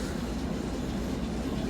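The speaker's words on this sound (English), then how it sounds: "I've recorded a locomotive coming into the middle platform" Locomotive pulling into the middle platform at Paignton station, a steady close rumble of wheels and engine filling the whole short stretch without pause.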